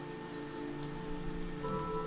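Steady rain ambience from a survival horror game built in Dreams on PS4, a constant hiss with faint ticking drops and a low hum underneath, no talking.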